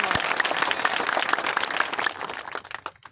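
At a Bhim Army political rally in Hardoi, the crowd claps in a loud, busy burst that thins out and dies away over the final second.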